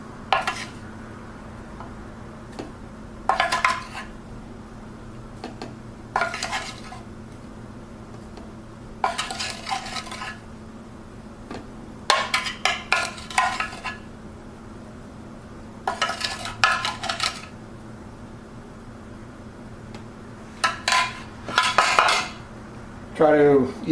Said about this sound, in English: start putting the coffee into the Aeropress